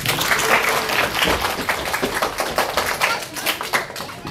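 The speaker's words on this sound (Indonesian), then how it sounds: "Oke, boleh kasih tepuk tangannya?" Children on an educational visit clapping together, a lively, uneven patter of many small hands that stays fairly loud and close throughout, with no one speaking.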